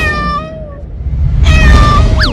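Cartoon cat meowing, two or three clear, drawn-out meows close up with a rising final cry, over some background rumble.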